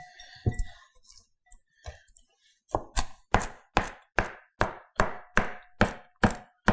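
A knife cuts leeks into medium slices on a board. A few scattered cuts come first, then a steady run of crisp, evenly spaced chops, close and distinct.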